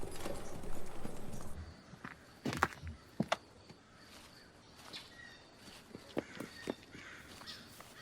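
Hooves of one old, broken-down horse pulling an old wagon clip-clop in a few sharp knocks over a rumbling, busy background, with a crow calling faintly in the distance.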